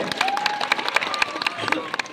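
Applause from the crowd at a village Independence Day celebration in Haripar, with scattered, steady clapping lasting a couple of seconds.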